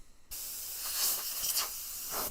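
An airbrush sprays paint in a steady, close hiss that starts abruptly after a brief quiet moment and swells slightly in bursts, with no voices.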